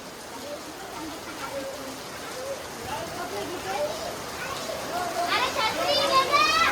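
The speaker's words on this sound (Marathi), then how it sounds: "पाऊस तर थांबायचं नावच नाही घेत जोरातच आला" Heavy rain pours steadily in the background while children's voices and chatter rise over it.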